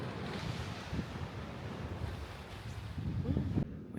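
Waves wash onto a Western Australian beach in a continuous broad surge, with wind buffeting the microphone and a slightly stronger swell near the end.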